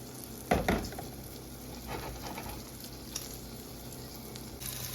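A homemade pancake fries in butter in a pan, giving a steady soft sizzle with a brief spatula knock near the start, quiet and close.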